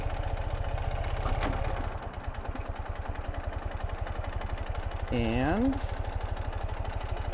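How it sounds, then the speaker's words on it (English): The engine of a 2018 Ural Gear Up motorcycle runs steadily in second gear, with an even low throbbing pulse close by. A voice speaks briefly over it. "Very easy to run these Ural motorcycles."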